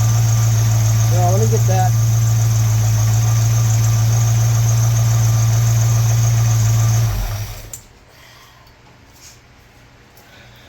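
A car engine fitted with an Edelbrock carburetor idles steadily and loudly for about seven seconds, then cuts off into near quiet, with someone speaking briefly over it.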